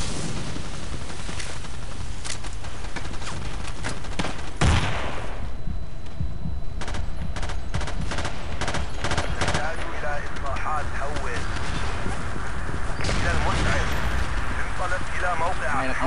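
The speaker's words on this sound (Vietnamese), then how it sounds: "giờ mình điểm xạ bằng súng của Mỹ luôn" American guns fire in controlled bursts during a Battlefield 2 match, sharp repeated gunshots coming in clusters of closely spaced cracks with short gaps between them, while voices talk over the action.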